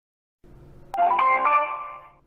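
In a horror video game, a phone call is placed from a living-room telephone: silence, then a sharp click followed by a clear electronic tone that holds for about a second before fading.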